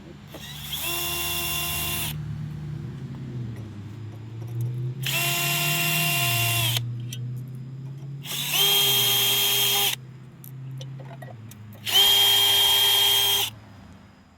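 Power drill or driver taking the old tow hitch off a Yarbo 2023 robotic mower, four loud whirring bursts of about two seconds each separated by short pauses, with a low motor hum underneath throughout.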